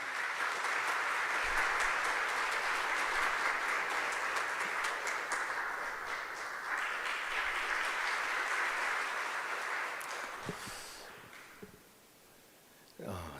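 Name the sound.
audience applause welcoming a candidate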